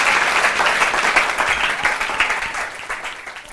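An audience applauds Bertrand Lamour at a comedy show, a dense, steady burst of clapping that holds its level across the whole clip with no voices on top.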